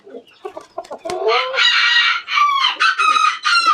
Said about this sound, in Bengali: এটা হলো ফ্রিজেল কোচিনের একটা মোরগ